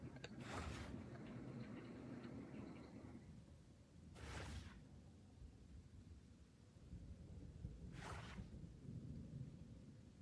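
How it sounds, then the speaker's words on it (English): Deep thunder from a big storm rolling in rumbles in long, low swells over steady rain-like hiss, with three sharp crackling bursts spaced several seconds apart; distant and muffled, with no talking. "Damn, big thunder."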